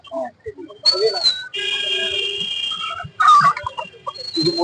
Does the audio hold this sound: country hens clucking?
yes